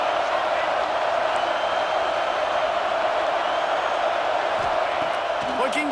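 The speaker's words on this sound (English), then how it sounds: "this crowd is turning it up a notch" Stadium crowd in a college football video game, Missouri at Nebraska, roars in a steady, loud, sustained wash with scattered whoops rising above it.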